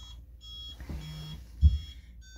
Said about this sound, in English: you hear the truck beeping